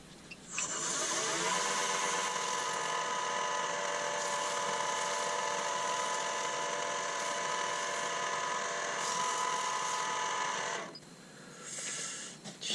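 Wood lathe spinning at speed while a lamp piece is polished with Superfine paste, a steady tonal whir with a hissing rub that holds for about ten seconds before winding down.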